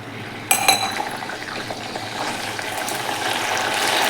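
A small splash of water poured into a pan of hot homemade ghee, giving a sudden burst of sharp crackling and clinks that settles into a steady, rising sizzle, close and alone.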